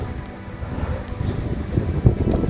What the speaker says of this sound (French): Le vent maintenant qui se pointe